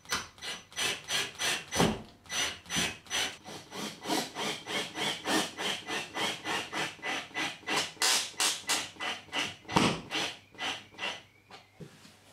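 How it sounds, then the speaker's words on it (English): A screw being driven by hand into a plasterboard grippet fixing to hold a bracket, giving a steady run of rhythmic rasping turns, close and fairly loud, with a brief pause and no talking. "we're going to screw that into the centre of the grippet"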